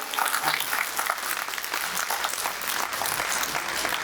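A large comedy show audience claps steadily, a dense and loud round of applause that holds without letup.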